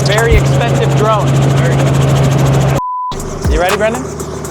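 A Red Bull helicopter flying close by, its rotor chop and engine roar loud and constant, briefly cut out by a gap before resuming as the aircraft's tone shifts.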